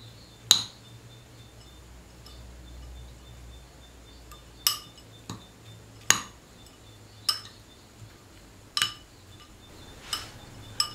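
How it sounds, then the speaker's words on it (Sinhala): Grated jaggery mixed into rice flakes in a bowl, heard as sparse, sharp clinks of a spoon against the bowl, about ten separate taps spread over a quiet background. "අපි දැන් ඒ ටික දාලා කලවම් කරගමු."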